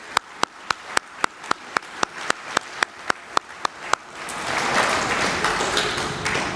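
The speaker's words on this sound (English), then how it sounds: "So a round of applause for the board members here." A single person claps steadily and evenly at a youth football banquet, giving about sixteen sharp, close claps before broader applause from the gathered crowd swells and carries on.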